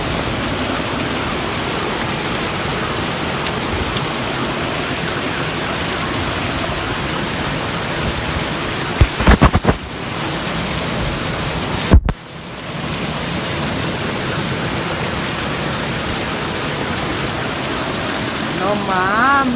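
A heavy rainstorm floods a street in a loud, unbroken roar of downpour, a few sharp clunks and a short dip partway through.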